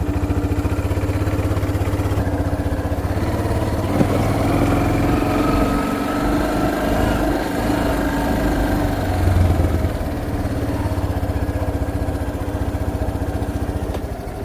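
A quad ATV engine runs steadily at idle in a junkyard, a continuous close low rumble holding for the whole stretch with slight swells and no talking.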